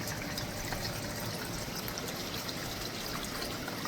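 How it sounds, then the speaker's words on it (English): A small waterfall trickles and splashes steadily into a garden pond, a continuous soft wash of falling water with no voices. "So you can see the waterfall coming in right there."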